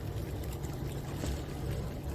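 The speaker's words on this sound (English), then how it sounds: "I do have a barge creeping up on me." A barge engine chugs from a boat on the water, a low steady rumble with faint water wash, fairly quiet and continuous with no talk.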